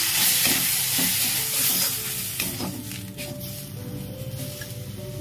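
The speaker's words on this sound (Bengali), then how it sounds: "এতে জল না দিয়ে এর মধ্যে টমেটোর পিউরি দিয়ে এটাকে ভেজে নিচ্ছি" Spice paste with turmeric and tomato puree fries in a pan for a vegetarian papaya and potato dish, a loud sizzle and hiss with spoon stirring scrapes that settle into a quieter bubbling fry.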